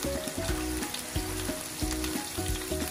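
Boiled beef frying in a pan for beef pulao, a steady close sizzle with rhythmic stirring scrapes recurring every half second or so, no talk.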